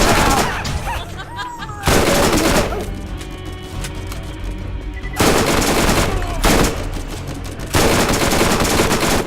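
Automatic gunfire from a Dahl weapon in Borderlands, firing in dense sustained bursts with short gaps between them, loud and close against a busy game backdrop.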